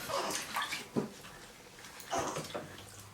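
Bath water splashes and pours as a newborn is rinsed off during a wash, in short uneven bursts with quiet gaps between them.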